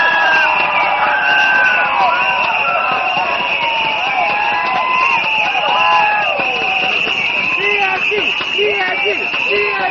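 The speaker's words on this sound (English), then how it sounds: "Let's give a big round of applause to Prime Minister Ministerial." A large crowd at a Singapore general election rally for the PAP in Aljunied cheers and applauds the Prime Minister, a loud, dense, continuous roar with whistles and shouts throughout.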